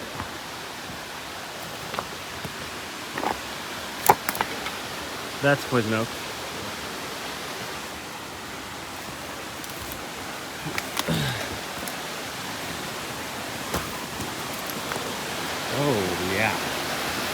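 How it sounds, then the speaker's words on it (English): Continuous rushing water from a nearby stream in Northern California fills the background as a steady hiss, with occasional brief talk and a few scattered clicks and rustles during tenkara fishing. "I hear water."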